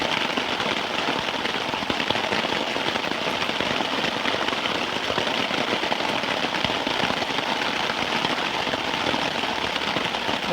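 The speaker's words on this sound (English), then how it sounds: "and it is raining so hard." Heavy rain pours down at night on a hammock camp at Copper Breaks State Park, a dense, constant hiss and patter with steady drumming on a tarp, loud and close, with no talk.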